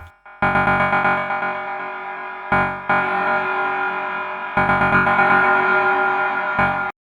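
A distorted synthesizer tone from a Roland P-6 sampler plays in sustained bursts with brief gaps, its reverb-effected sound washing out with echoing tails between the loud phrases.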